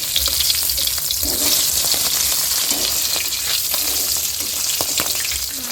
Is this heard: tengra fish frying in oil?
yes